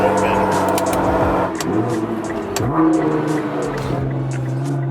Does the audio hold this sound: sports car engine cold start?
yes